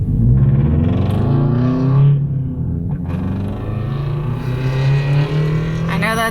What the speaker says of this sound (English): It's a very expensive muffler, but it just sounds really bad.